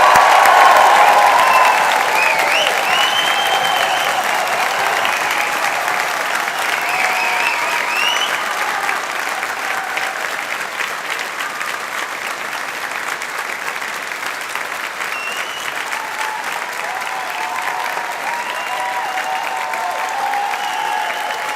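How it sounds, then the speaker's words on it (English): A large audience at a Strathclyde Institute of Pharmacy and Biomedical Sciences graduation ceremony for the class of 2024 claps and cheers. Dense, sustained applause starts loudest, then slowly thins while continuing to the end. "you can have a collective cheer for the class of"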